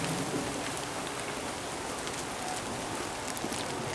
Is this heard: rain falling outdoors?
yes